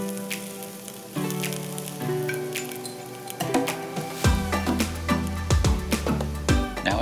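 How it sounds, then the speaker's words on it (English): Diced onions sizzle in hot oil in a pan, a steady close frying hiss with occasional clinks of a utensil against the metal, growing busier toward the end. "Sauté these onions until they're translucent."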